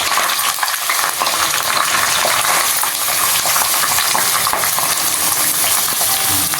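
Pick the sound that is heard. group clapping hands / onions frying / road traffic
onions frying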